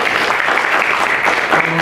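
A dense, steady roar of applause fills a forum hall as the speakers and guests are introduced. It is loud and continuous, with a faint voice near the end.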